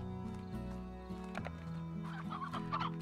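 Chickens clucking on a ranch in the game Slime Rancher, with short clucks and squawks over steady tonal game music that runs throughout.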